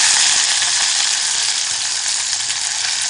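Onion, garlic and curry leaves fry in hot oil with a loud, dense, continuous sizzle that holds steady throughout, close up with no talking.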